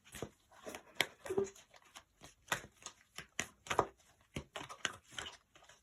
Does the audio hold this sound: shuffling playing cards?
yes